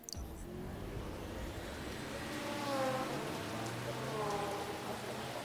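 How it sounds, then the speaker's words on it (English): Rain falling in the GT Manager racing game, a steady soft hiss of rain with car engines humming and shifting pitch underneath, moderately quiet and continuous. "Where the bloody hell did that rain come from?"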